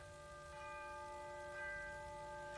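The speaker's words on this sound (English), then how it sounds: "Chiming midnight." A clock chimes midnight with sustained, ringing bell tones. A fresh strike comes about every second, faint but clear over a soft hiss.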